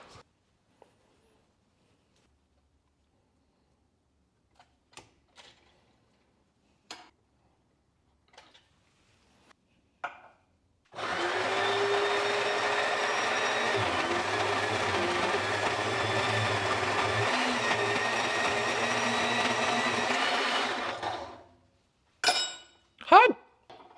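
Belt sander grinding down the end of a wooden piece, a steady loud whirring drone lasting about ten seconds under no talk, preceded by faint clicks and followed by a few sharp knocks.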